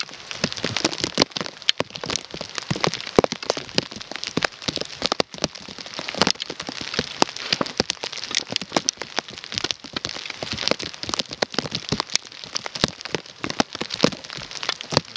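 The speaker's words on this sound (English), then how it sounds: "It's freezing rain and rain." Freezing rain and rain pelting down during a winter ice storm at a bushcraft shelter, a steady dense patter with sharp crackling drops hitting surfaces close by, continuous throughout with no talking.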